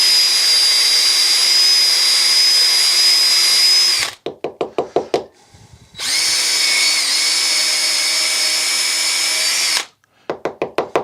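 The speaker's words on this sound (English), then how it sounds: "I've been using the hosel brush" A power drill spins a hosel brush inside a golf club head to scour out old epoxy, two long steady whirring runs, each followed by bursts of short scraping pulses, close and loud.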